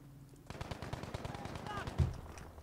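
Gunfire in the video game Battlefield V, a rapid burst of automatic shots under a background voice, fairly quiet, with a heavier impact near the end.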